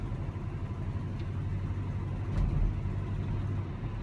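A 1971 car drives along with its engine giving a steady, smooth low rumble that swells slightly midway, with road noise and no talking.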